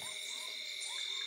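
Frogs and other night creatures in a dense forest: steady high-pitched calls ring through a dense night chorus, with softer rising croaks repeating underneath at a moderate distance.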